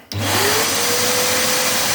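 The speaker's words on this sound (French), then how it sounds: "Maintenant, on passe un petit coup d'aspirateur dans le trou." A vacuum cleaner switches on abruptly and runs with a loud, steady whooshing roar, sucking dust from a drilled hole in a wall, its motor pitch rising slightly as it settles.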